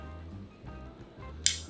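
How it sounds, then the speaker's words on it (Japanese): Hairdressing scissors close slowly on a lock of hair during a short mash-wolf cut, giving a single crisp metallic snip near the end over a faint room hush. "ここスタートのゆっくりハサミを閉じる。"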